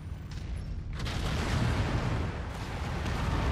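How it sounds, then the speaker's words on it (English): Heavy explosions and booming gunfire rumble from a MechWarrior 5: Mercenaries battle, a loud dense wash of blasts that swells sharply about a second in and stays thick throughout, with no voices over it. "See some form of fireworks."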